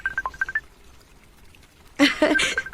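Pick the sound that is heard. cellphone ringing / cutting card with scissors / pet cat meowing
cellphone ringing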